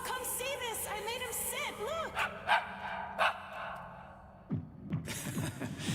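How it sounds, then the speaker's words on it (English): A dog in a video game gives a few short yips and barks amid melodic chirping game sounds, then a sudden sharp bark-like burst near the end, moderately loud. "Yes, good boy. It's a dog."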